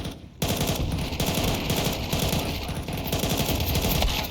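Rapid automatic gunfire in a Counter-Strike match replay, a sustained burst of closely spaced shots after a brief quiet start, loud and continuous for several seconds.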